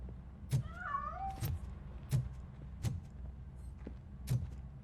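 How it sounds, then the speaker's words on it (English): A cat in RoboCop: Rogue City lets out a short warbling meow, with several sharp thumps and knocks spaced through the quiet game ambience. "That cat must be hiding inside."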